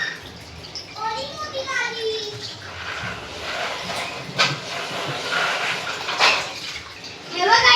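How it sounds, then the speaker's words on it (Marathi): Fresh mackerel is washed by hand in water, giving a hissing rush of running and splashing water with sloshing bursts, while someone talks over it at the start. "आपण बांगडे सुद्धा धुवून घेऊया."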